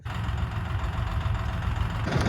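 A DTZ tractor engine idles steadily before crop spraying, with a sprayer rig hitched behind it. The deep, even mechanical rumble runs close and unbroken, and no voices can be heard.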